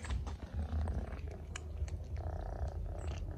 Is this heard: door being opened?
no